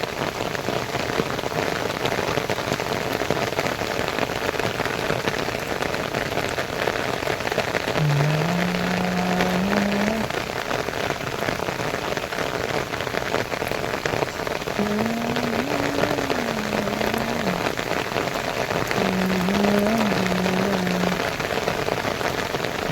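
Heavy rain pours down on goats out in a field, a loud, steady, unbroken wash of downpour that fills the whole stretch without letup.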